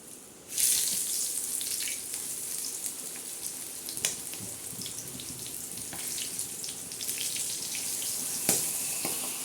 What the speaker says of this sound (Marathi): आता आपला हा बांगडा मासा आपण आता मस्त तळून घेऊया